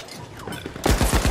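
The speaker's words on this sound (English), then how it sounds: "there's a fucking turret in the trees" Rapid automatic gunfire from a turret positioned in trees during a Terminal Attack match in The Finals video game, a loud burst of close repeated shots cutting in after a quieter stretch of background game noise.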